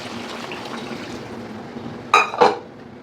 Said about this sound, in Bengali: এবার আমি দিয়ে দেবো ফুটিয়ে রাখা গরম জলটা